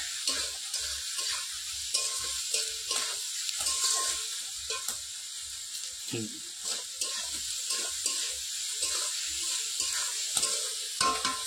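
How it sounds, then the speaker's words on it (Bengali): Chicken curry with salt and spices sizzles in a frying pan over a wood fire while a utensil scrapes and stirs in an uneven rhythm, close and steady. "দিয়ে একটু ভালো করে নাড়াচাড়া করে নিচ্ছি"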